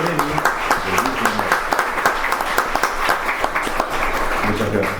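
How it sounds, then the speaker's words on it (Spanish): Audience applause at a book presentation, a steady wash of many hands clapping from a seated crowd, continuous and fairly loud for the whole stretch with no talking over it. "Los aplaudo, invitando a toda la concurrencia a que las premien el mismo"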